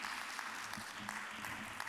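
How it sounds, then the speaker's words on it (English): A conference audience at an energy and climate forum in Vienna applauds, soft, distant, steady clapping from a seated room, with a faint voice murmuring beneath. "And a round of applause for her as she makes her way to her seat."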